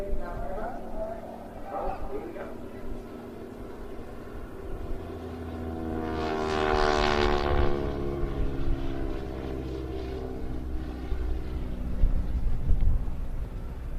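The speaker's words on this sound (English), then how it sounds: "Now the aircraft are coming in towards us, and they'll split left and right into a lovely opposition sequence" Boeing Stearman biplanes approach at an air show, their propeller engine drone swelling louder mid-clip as they close in, with a commentator talking over the noise throughout.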